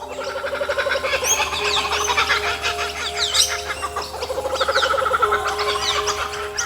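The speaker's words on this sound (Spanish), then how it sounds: "La risa del cucaburra" A kookaburra's loud, cackling chorus rises and falls in repeated bursts of rapid hooting laughter, close and lively throughout.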